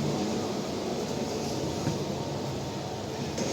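Daily express train running on brand-new 2025-built LHB coaches, a steady moderately loud rumbling roll of wheels on track, continuous and even throughout with no talking.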